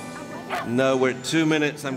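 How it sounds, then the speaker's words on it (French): Several dogs bark and yip at a K9 Games barking contest, short excited woofs coming in bursts close by, with a handler's voice talking over them and urging them on. "de grands enfants s'amusent à faire aboyer leurs chiens sous l'œil d'un arbitre impitoyable"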